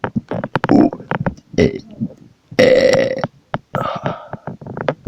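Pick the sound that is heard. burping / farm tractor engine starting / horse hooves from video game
burping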